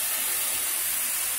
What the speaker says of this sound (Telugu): ఇప్పుడు టమాటా కూడా వేయించుకుందాం ఈ సైడ్ తీసి.